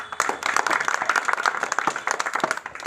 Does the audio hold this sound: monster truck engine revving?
no